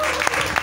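Congregation clapping and cheering inside a church, a short burst of broad applause with louder swells, captured close and filling the room.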